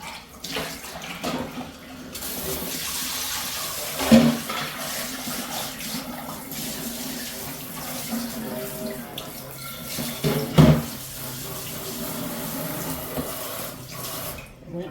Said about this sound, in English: Rinsey that sink out.